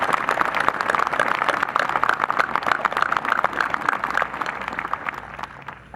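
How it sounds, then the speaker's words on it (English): Audience applause for the faculty and staff at the 2015 Sachem East graduation, a dense, steady clatter of many hands that holds loud for several seconds and then thins slightly at the end. "they all deserve a round of applause"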